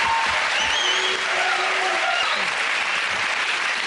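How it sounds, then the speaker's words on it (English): Studio audience at a comedy panel show applauding, a full, sustained roar of clapping from a large crowd, loud and even across the whole stretch, with faint voices blended into it. "We'll come off the applause again."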